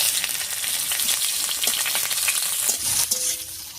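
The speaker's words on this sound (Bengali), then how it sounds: "ফোড়নটা হালকা ভাজা হয়ে গেছে, এর উপরে দিয়ে দিচ্ছি পেঁয়াজ কুচি।" Chopped onion hits hot oil over whole cardamom and bay leaf for a jackfruit curry, a loud steady sizzle with stirring scrapes throughout.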